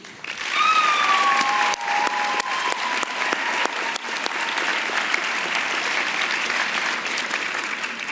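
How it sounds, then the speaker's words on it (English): A large crowd at a university master's commencement ceremony applauds steadily, a dense wash of clapping that holds for several seconds, with a few faint whistles near the start. "Please join me in another round of applause to thank all those folks too"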